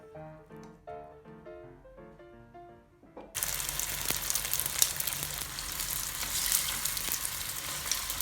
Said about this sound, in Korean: 살짝 어느 정도 구워준 다음에